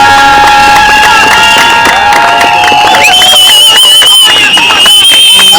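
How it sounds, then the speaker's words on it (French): A crowd at a church wedding-engagement ceremony led by Pastor Liteya Kanda claps and cheers for a standing guest; loud, dense noise with shouts and music-like tones runs continuously, with voices mixed in. "sous vos applaudissements"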